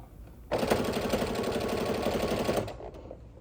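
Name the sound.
sewing machine stitching quilt binding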